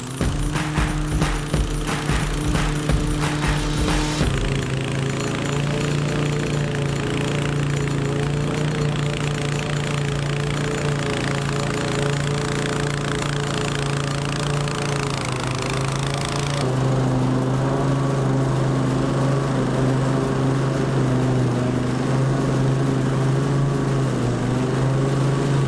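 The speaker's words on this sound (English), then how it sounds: "the Time Master is slightly lower than those lighter mowers like the 21-inch mowers usually, just because of the weight. It pushes down into the grass better." A Toro TimeMaster lawn mower runs loud and close through thick grass, its engine droning steadily with rattling at the start and pitch shifts as it bogs in the heavy growth.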